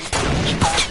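Rapid gunfire in the Fortnite video game, a dense burst of loud overlapping shots filling the second, close and sharp.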